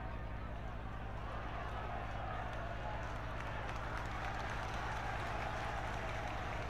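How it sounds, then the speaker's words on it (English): A football crowd at a 1989 FA Cup tie between Hull City and Liverpool applauds a 20-year-old player, a steady wash of clapping and crowd noise under continuous commentary. "Applause for the 20-year-old."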